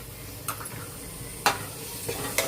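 Ginger garlic paste and raw masala roasting in a pan, with a faint steady sizzle under a few sharp stirring scrapes, near and quiet, without speech.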